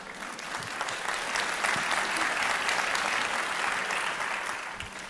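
Audience clapping at a Q&A talk about The 1619 Project, a dense, even round of applause that holds steady throughout, moderately loud in a large room.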